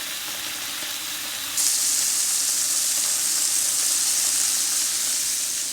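Lobster sizzling steadily in a hot pan, a dense bright frying hiss that swells louder after a moment and then holds even, with no talking over it.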